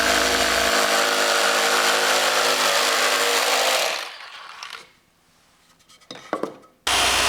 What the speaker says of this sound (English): I finished the radius cuts with a Carvex, cutting about a 1/16 of an inch away from the line